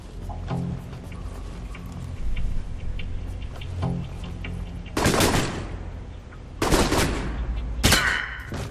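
Tranquilizer rounds fired in a video game, several sharp loud shots in quick bursts over a steady low game background, with faint ticking earlier.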